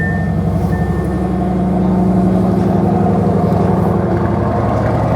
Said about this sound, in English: The rumble of that twin-turbo V8.